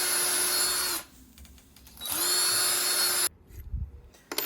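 A power drill whines at high speed into a thin plaster wall in two loud bursts of about a second each, separated by a pause, followed by faint scraping and crumbling.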